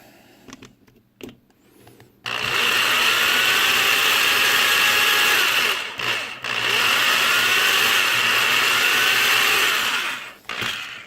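Power drill boring a hole into a small toy model car held on a block, a loud continuous whine in two long bursts separated by a brief pause, with quiet clicks and handling before it starts.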